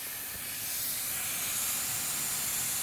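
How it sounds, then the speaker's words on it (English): Air hisses steadily out of the tyre valve on a BMW R1150RT motorcycle, a close, continuous broadband rush that swells slightly louder partway through, with no voices. "I'm just letting all the air out."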